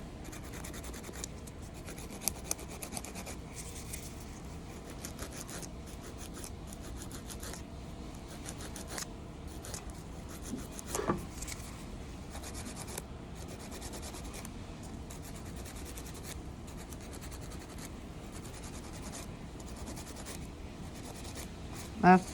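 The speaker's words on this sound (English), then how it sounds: "holding the nail file flat against where that line is, where it attaches," A nail file rasps back and forth over an artificial nail tip, held flat to blend the tip's edge. The strokes are faint, close and steady, with a few slightly louder scrapes.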